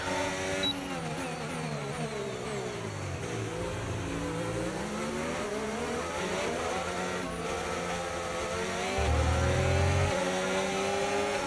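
A Formula 1 car in a racing video game at Bahrain screams through rising and falling engine notes as it shifts gears, with a brief tyre squeal near the end, loud and continuous with no talking.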